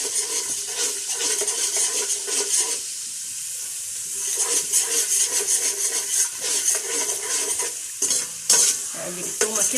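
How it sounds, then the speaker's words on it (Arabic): Garlic sizzling loudly in oil with hot chili, black pepper, coriander and cumin while being stirred. A close, bright frying hiss carries uneven scraping strokes, dips briefly partway through, then returns with a few sharp clanks near the end. "اقلب التومه كده كويس في الزيت ومع البهارات"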